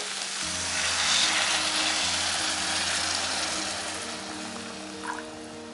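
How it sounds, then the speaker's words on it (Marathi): Hot water is poured into a pan of sprouted moth beans frying in oil for spicy misal. A strong, steady sizzling hiss swells and then gradually eases, heard close up with no voices. "त्यात मी आता 1/2 लिटर पाणी घेतलंय गरम"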